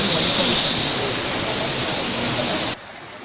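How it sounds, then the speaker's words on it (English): Waterfall in the Cerro Dantas wildlife refuge, Costa Rica: a steady, close broadband roar of falling water, loud and unbroken, cutting off abruptly near the end. "that was the biggest waterfall in this wildlife refuge"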